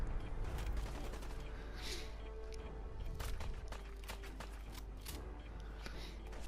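Scattered shots and sharp cracks from a Fallout 4 battle, including shooting at dogs, irregular and busy, over a low rumbling background with faint voices.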